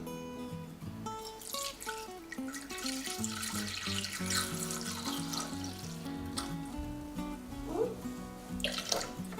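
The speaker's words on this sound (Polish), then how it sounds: "Wlewamy litr mleka, ale my będziemy robić pół porcji, więc wlewamy połowę" Milk pours into a Thermomix TM6 bowl with a steady liquid splash and gurgle, while quieter clinking and kitchen sounds come and go underneath.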